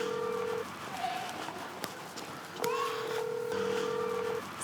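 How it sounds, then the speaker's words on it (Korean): A string of electronic phone keypad tones beeps out as a delivery rider dials a number, steady tones separated by brief pauses over background noise. "급히 다시 전화를 걸어보지만"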